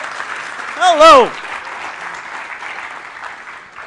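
A conference audience at a Ruby programming event claps throughout, a steady wash of applause under a loud voice that speaks briefly near the start.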